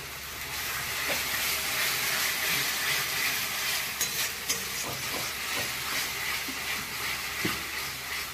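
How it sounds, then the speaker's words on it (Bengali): Masala stirred and fried in butter for shahi paneer gives a steady, moderately quiet sizzle with occasional scraping and clinking of the spoon against the pan. "এটা মিশিয়ে নেবো, আচ্ছা। তারপরে দিয়ে বা কষাবো।"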